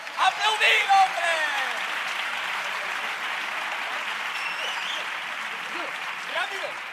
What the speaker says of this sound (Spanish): ¡Aplaudid, hombre!